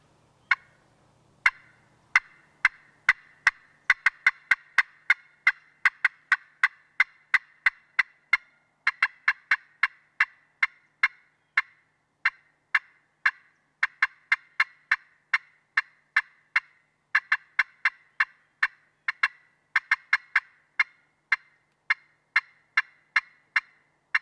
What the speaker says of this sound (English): take your clucking and turn it into what they call cutting